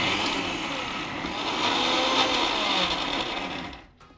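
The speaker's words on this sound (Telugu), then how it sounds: "వేసుకొని చక్కగా దీన్ని మనం మిక్సీ చేసుకుంటాం. సో మిక్సీ చేస్తున్నాను." A mixer grinder whirs steadily as it grinds cumin and garlic cloves for a Godavari-style fish curry, a loud continuous blend that cuts off abruptly near the end.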